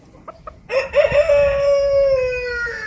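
A rooster crows loudly and close by, one long drawn-out call, preceded by a few short clucks from the flock.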